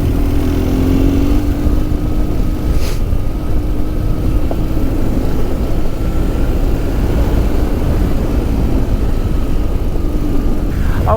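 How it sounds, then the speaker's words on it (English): A 2004 BMW R1200GS K25 motorcycle riding off-road on green lanes across Salisbury Plain gives a steady, moderately loud engine drone with a low rumble throughout and no talking. "I love the noise that this bike makes."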